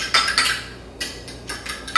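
Milk and cinnamon mixture for French toast being stirred in a bowl, a utensil clinking and scraping against the sides in uneven bursts, close and fairly bright, with quiet gaps between strokes.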